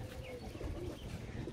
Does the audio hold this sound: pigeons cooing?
yes